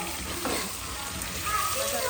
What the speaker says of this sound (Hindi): गोश्त भून गया।